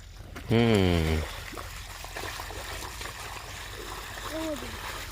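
Water from a borewell motor pump on a farm trickles and splashes in a steady, moderate stream, with a brief voice-like tone near the start and faint sounds mixed in.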